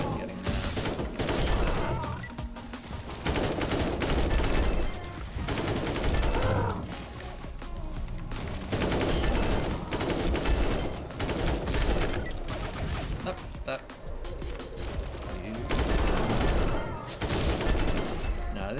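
Rapid gunfire from a speedrunning gun in the video game Echo Point Nova crackles in dense bursts throughout, with brief pauses between volleys and mechanical clicks mixed in.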